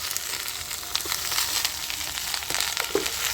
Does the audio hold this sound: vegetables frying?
yes